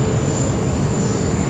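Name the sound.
airliner taking off from runway 16 right, Sydney Airport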